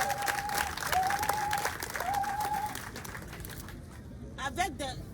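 Applause from an audience at a rural women's day gathering in Sikensi, honoring a donor company, a steady patter of many hands with voices and a tonal call over it, then fading near the end.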